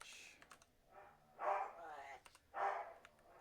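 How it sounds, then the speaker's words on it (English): A dog barks in a few separated bursts, somewhat distant, with clicking and faint background noise between the barks. "Oh, my husky's out there barking at something."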